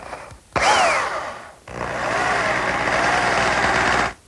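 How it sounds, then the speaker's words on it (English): A power drill bores a hole through the tenon of a wooden short bed rail, with a loud whining start, a brief stop, then a long steady drilling run that cuts off sharply. "The first thing I want to do is drill a hole through the tenon of the short rails."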